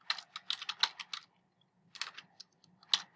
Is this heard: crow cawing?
no